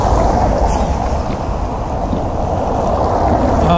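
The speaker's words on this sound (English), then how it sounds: "Oh, that's some delicious fountain water right there." Steady rushing fountain water fed by an ancient aqueduct outside Rome flows continuously nearby, a dense even splashing wash that holds at the same level throughout.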